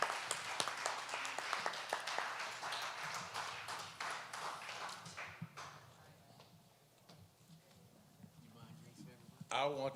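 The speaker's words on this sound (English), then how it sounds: "Give them a round of applause, you guys." Audience applause at a District 8 congressional candidate panel hosted by a community Democratic club, a fairly quiet spread of clapping that fades out partway through before a few sharper sounds return.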